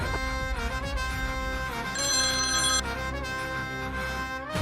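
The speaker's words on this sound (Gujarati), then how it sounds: "પપ્પા કોકનો ફોન આવ્યો." A mobile phone rings for an incoming call in a home, its melodic ringtone playing loudly and continuously with no one speaking.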